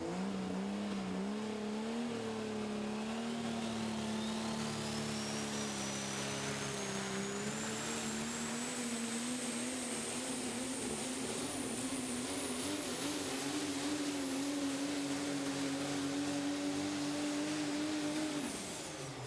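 A Super Stock diesel pickup truck pulling a sled roars at sustained high revs, its engine drone steady and loud throughout with a rising turbo whine, until it cuts off abruptly at the end.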